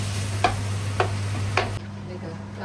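Food sautéing in a pan while cooking with friends in London, three short stirring scrapes about half a second apart over a steady background hum, then the hum drops away and quieter sizzling continues.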